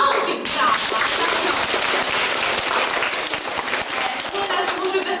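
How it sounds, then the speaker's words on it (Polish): An audience at a school event applauds with loud, sustained, close clapping that carries on without a break, with voices mixed in underneath. "Proszę o gromkie brawa."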